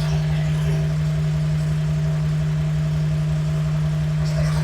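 A Corvair engine on first test runs after a rebuild, idling with a steady, loud, rhythmic low thrum and a constant hum. The idle stays even throughout with no revving.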